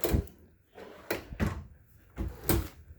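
An RV drawer in a 2019 Cougar 366RDS camper slides open and shut, giving several short, close wooden knocks and scrapes spaced about a second apart with no talk.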